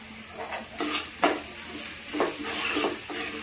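Onions fry in a pan as turmeric powder goes in, with a steady sizzle broken by several scraping stirs of a spoon against the metal.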